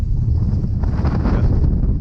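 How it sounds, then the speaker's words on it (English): Strong wind buffets the microphone in a continuous low roar, loud and close with no voices. "it's windy as heck"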